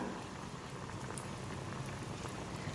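Plain puff pastries deep-fry in hot oil over a medium flame, producing a steady, dense bubbling sizzle up close without pause.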